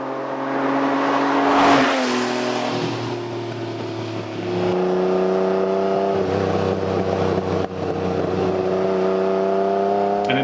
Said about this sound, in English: it has a very unique exhaust note that you can hear here